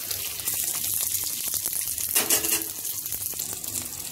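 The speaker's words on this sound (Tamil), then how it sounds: "இந்த எண்ணெயில் கொஞ்சம் நல்லா கொஞ்சம் லைட்டாக கலர் சேஞ்ச் ஆகிறளவு வதக்கணும்." Garlic and onions sautéing in oil in a pan until lightly coloured, giving a steady, close frying hiss with faint scraping that fills the whole stretch, with no one talking.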